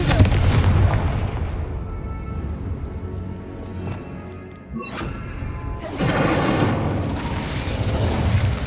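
A Confringo blasting spell in the Hogwarts Legacy video game: loud, rumbling booms and crashing impacts dominate throughout, with a brief dip in the middle before a second heavy burst.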